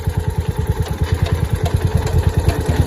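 A Kawasaki FE290 small engine running lean idles with a fast, even chug, and pops come through the muffler. It is loud and close, with no talking.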